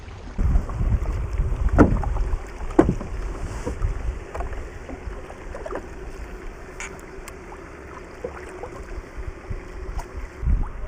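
A Bonafide SS127 kayak glides on water with soft splashes and paddle strokes, wind buffeting the microphone throughout, no voices.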